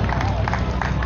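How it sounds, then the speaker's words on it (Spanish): Live comedy show crowd in Pugarabato applauding for a volunteer named Juan, a loud wash of clapping and crowd noise mixed with talk and cheers throughout. "Dígale un aplauso"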